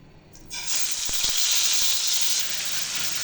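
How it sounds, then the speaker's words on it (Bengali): Pieces of pangas fish are dropped into hot oil in a pan, setting off a sudden loud, steady sizzle that keeps hissing close up, with a few faint utensil knocks and no talk. "মাছগুলো ভাজার জন্য প্যানে তেল গরম করে নিয়েছি, এখন মাছগুলো দিয়ে দিব।"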